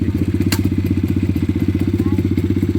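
A pit bike engine idles close by with a steady, rapid thumping pulse, loud and continuous, with a brief sharp clatter near the start.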